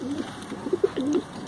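Soft, low pigeon coos repeat in a loose rhythm, close by, with faint background hiss and no talking.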